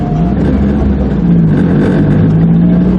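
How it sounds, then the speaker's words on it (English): A Nissan 240SX S13 engine drones steadily while driving, with a low rattling buzz from the exhaust underneath, loud and continuous throughout. "And that's the exhaust that's rattling."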